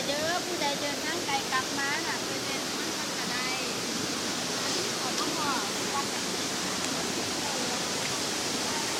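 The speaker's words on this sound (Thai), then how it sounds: "น้ำไหลน้ำเยอะ" Waterfall at Ba Luang in Kranuan district, Thailand, a heavy, continuous rush of flowing water filling the clip, with voices faintly audible beneath the steady roar.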